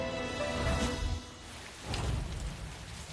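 Heavy rain pours down in a steady hiss, fairly faint and distant, swelling slightly in two broad surges with no talking.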